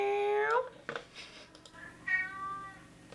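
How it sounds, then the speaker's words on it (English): A squeezed cat toy lets out two drawn-out meows, close and fairly loud, separated by a short pause with a few faint clicks between them. "I squeezed the kitty cat from here. I squeeze him."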